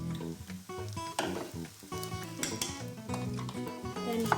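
Rice and egg frying for kimchi fried rice in a non-stick pan, with busy sizzling and scraping stir sounds, close and continuous, with clattering utensil hits mixed in.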